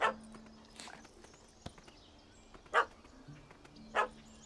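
A dog in the video game The Witcher 3 gives several short, sharp barks spread at uneven intervals, alongside soft footsteps and faint game ambience.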